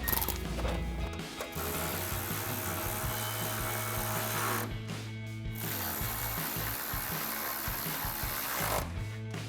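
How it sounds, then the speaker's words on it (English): A ratchet clicks steadily while a 10mm socket tightens headlight mounting bolts on a 2014-2015 Chevrolet Silverado 1500, a close continuous mechanical whir with a couple of short breaks. "grab our ratchet 10mm socket and tighten them down"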